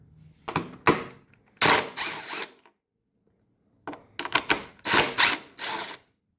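A hand ratchet clicks in quick, close bursts as two 10 millimeter bolts come out of the fuel pump mount on a Cub Cadet XT2 mower with a Kohler 7000 Series engine. One group of clicks comes before a short pause and a second group follows it.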